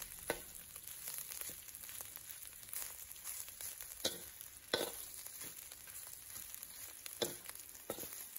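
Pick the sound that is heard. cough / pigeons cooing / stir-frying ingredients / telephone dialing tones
stir-frying ingredients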